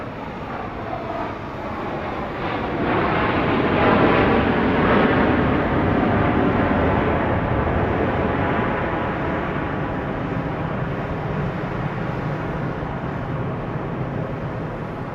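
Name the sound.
jet airliner arriving at Dallas Love Field at night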